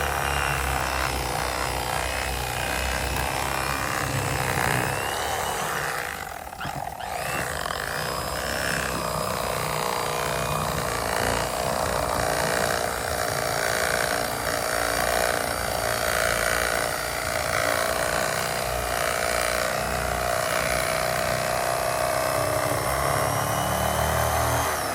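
An electric knife buzzes continuously at close range, a steady motor drone with a brief dip partway through as it cuts a fish fillet off the skin.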